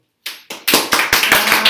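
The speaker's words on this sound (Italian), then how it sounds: "Applauso." Clapping starts up from silence at an Italian cooking show evening themed on Oz: a few loud, close claps that quickly build into a rhythmic round of applause from a small group.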